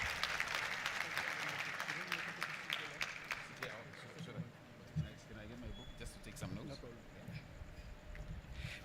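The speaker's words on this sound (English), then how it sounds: "Please give your Minister of Finance and Public Enterprises another round of applause." Audience applause at an annual budget dialogue event, a broad wash of clapping that swells loud early on and slowly thins out, with voices carrying over it.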